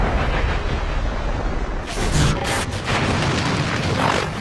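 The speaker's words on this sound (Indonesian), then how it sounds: "Saat jembatan itu dihancurkan, ledakan besar pun terjadi" A huge explosion blasts as the Bifrost bridge is destroyed in a superhero film, a deep sustained roar that surges with rolling bursts and stays loud to the end.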